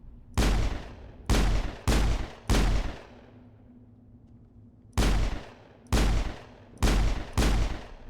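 Gunshots in a video game fired in quick bursts, four loud booming reports, a short lull, then four more, close and punchy with no talk over them.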